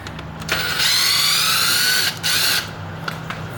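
A power drill backs screws out of a sliding glass patio door lock, a close whirring buzz that runs for about two seconds, stops briefly, then whirs again for a moment.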